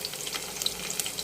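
Onions with green and dried red chillies fry in a pan for bitter gourd curry, giving a steady, fairly close sizzle with faint crackles and brief bright hisses throughout.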